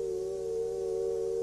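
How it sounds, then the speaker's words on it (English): A steady biofeedback tone that signals alpha brain waves from a subject in a dark, acoustically isolated chamber: one pure, continuous pitch, fairly quiet, alone and unbroken throughout. "the tones become louder, so that he knows when he's making alpha"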